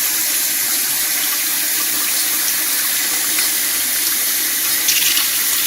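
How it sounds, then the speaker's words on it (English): Cold tap water runs in a steady, continuous stream over a cooking pot of vegetable medley in a sink, a full, even splashing rush that lasts throughout with no voices. "Got the cold water running on the top."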